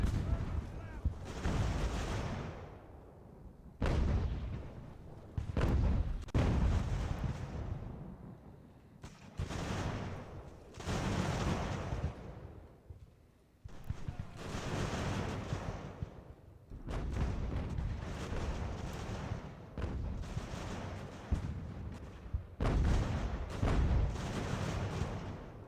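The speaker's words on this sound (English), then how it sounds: "We're firing artillery into your rear. And musketry into your rear." Artillery and musket fire from an Ultimate General: American Revolution battle, repeated heavy booms and crackling volleys rolling in waves over about twenty-five seconds, loud and continuous with short lulls between salvos.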